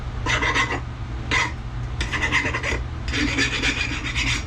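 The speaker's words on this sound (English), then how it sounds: "Every now and then you have to get the burrs off it." Hand file rasping burrs off a metal engine part during an engine build, four separate bursts of quick back-and-forth scraping strokes, close and distinct with no talk.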